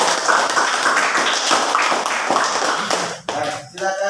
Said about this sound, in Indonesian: Ya, tepuk tangan untuk kelompok.